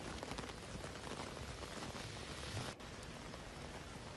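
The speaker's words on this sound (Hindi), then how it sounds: "झमाझम बारिश नजर आ रही है" Heavy winter rain pours steadily over Delhi NCR, a dense, constant hiss of drops hitting surfaces that holds an even loudness throughout, with no voices.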